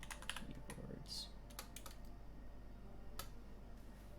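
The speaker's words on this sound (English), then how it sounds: "Keyboards." Typing on a mechanical computer keyboard, very faint and sparse, with a few scattered key clicks against a quiet background hum.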